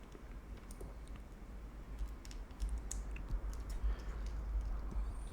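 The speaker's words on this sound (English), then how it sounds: "I'm going to use scissors" A rapid run of small, crisp snips and clicks of scissors cutting open stiff plastic packaging of a CR2032 coin battery, close by over a low hum.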